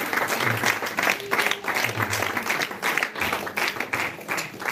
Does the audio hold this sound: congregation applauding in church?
yes